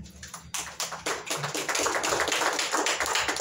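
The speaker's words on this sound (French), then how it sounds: "Applaudissez pour vous-même" An audience at a Tshangu governance speech in Congo claps for themselves, starting with a few scattered claps that quickly swell into sustained, dense applause.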